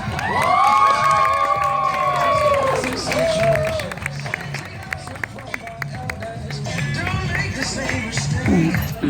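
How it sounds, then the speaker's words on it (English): An audience at a Democratic Party rally for Hillary Clinton claps and cheers as a speaker is introduced, with loud whoops and shouted voices rising over steady clapping and crowd noise. "Please give a warm round of applause to Amrit Nasiruddin."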